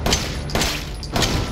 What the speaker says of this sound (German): Der schießt einfach weiter.